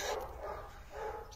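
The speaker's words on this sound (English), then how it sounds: "Damn neighbor's dog." A neighbor's dog barks a couple of times. The barks are faint and muffled, as if from outside, over a steady background with no talk.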